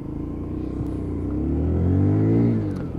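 Lexmoto Assault Euro 5 motorcycle (2022) with its refined Euro 5 engine, heard revving up with a rising, throaty drone that swells and then eases off, close and loud with no talking.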